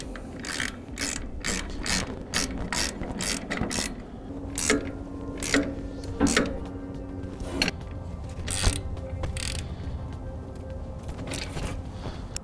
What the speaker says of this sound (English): Once we have them on all the way, we'll go ahead and tighten them down